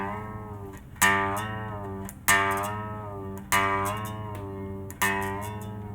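A guitar string is plucked and bent four times in an even rhythm, each note sliding in pitch with a wavering, almost vocal whine before fading, close and clear with no talking.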